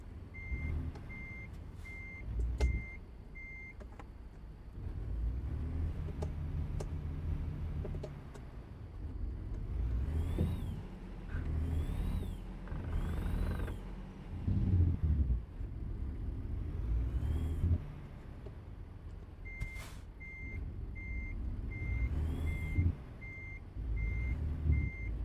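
A truck in American Truck Simulator backs up a trailer, its reversing alarm beeping steadily in clear repeated pulses over a low diesel rumble, with occasional hisses of air brakes and no talking.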